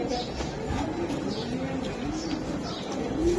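Red checker racing pigeons coo softly and repeatedly in a loft, low rolling calls continuing steadily under a busy background.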